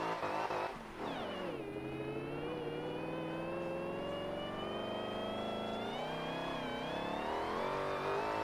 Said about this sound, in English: This supercharged V8 is something else.